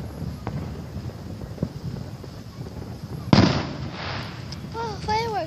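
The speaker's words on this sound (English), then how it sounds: "On the street, they're doing fireworks." Fireworks go off on a street, with a sharp bang and crackling bursts over a constant background rumble, followed by rising whistling streaks near the end, while people talk nearby.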